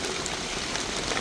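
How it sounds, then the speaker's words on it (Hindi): Heavy rain pouring down steadily in the forest at Dhikala in the evening gloom, a dense continuous hiss of drops close by with no pauses and no voices. "और बहुत तेज़ बारिश हो गई है"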